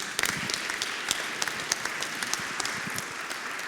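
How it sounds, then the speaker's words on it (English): Steady audience applause at an executive industry talk, dense and continuous with crisp individual claps throughout, fairly loud and unbroken by speech. "Please give a warm applause to Amelie Richter."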